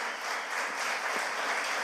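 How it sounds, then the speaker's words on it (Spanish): Loud, dense applause from a church congregation fills the space steadily and evenly, with no voices rising above it. "quiero que ustedes me acompañen a darle un fuerte aplauso al equipazo"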